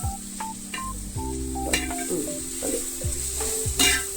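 Garlic frying in a pan for an Idukki-style beef leg curry, a continuous sizzle with stirring scrapes and clinks of utensils against the pan, close and without talk.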